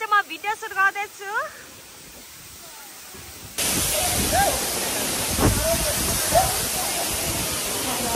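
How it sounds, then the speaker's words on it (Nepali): A waterfall rushes as a steady, loud broadband roar that begins abruptly partway through and continues to the end, with brief voices heard before it and faintly over it. "झर्नाको ठ्याक्कै यहाँ छु अनि म पानी खेल्न गइरहेको छु"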